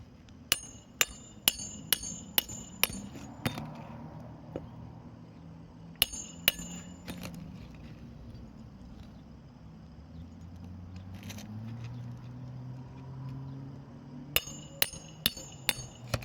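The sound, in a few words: hammering nails into roof shingles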